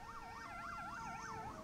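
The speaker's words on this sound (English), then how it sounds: "Here we stop for the ambulance" An ambulance siren wails on a mountain road up Mont Ventoux, a steady, loud, nearby rising-and-falling tone cycling about twice a second with no voices over it.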